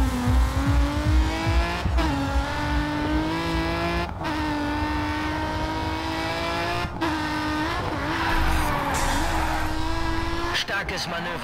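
A car drifts in the Grid 2 racing game, its engine droning steadily with bursts of tire squeal, heard under someone talking throughout.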